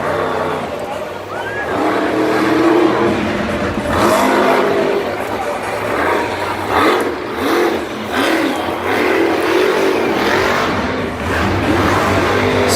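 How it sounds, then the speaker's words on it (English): A monster truck engine roars and revs over and over at a Monster Jam event, its pops and sputters breaking through, while an announcer talks excitedly over the noise. "That engine is popping incredibly."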